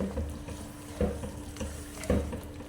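Mutton curry meat fries in a pot with a soft continuous sizzle, broken by periodic scraping thumps of a spoon stirring it at roughly half-second to one-second intervals, close and moderate in volume.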